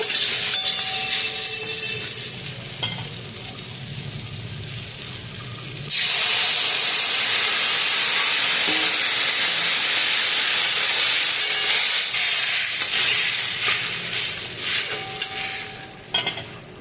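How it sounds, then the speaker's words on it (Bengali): Vegetables for shukto, a Bengali mixed-vegetable dish, frying in a pan: a moderate sizzle with stirring scrapes, then a sudden loud burst of hissing steam from about six seconds that stays strong to the end, with no talk. "দেখুন আমার সবজি ভাজাটা হয়ে গেছে"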